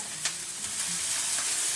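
Onion and carrots frying in canola oil with salt and thyme, a steady close sizzle with faint crackles, no one talking.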